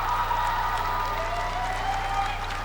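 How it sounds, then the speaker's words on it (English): A figure skating crowd in an arena at Gangneung keeps up a steady, dense wash of applause for a men's free skate, with faint voices mixed in. "Got a great reaction from the crowd here in Gangneung."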